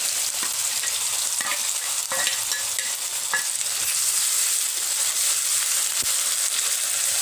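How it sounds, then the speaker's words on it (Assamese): Chopped onion and ginger garlic paste frying in a pan for an Assamese brinjal sabzi, a steady bright sizzle with occasional stirring scrapes and clinks, close up and without talk. "আৰু এইখিনি এতিয়া মই অকণমান ভাজি ল'ম"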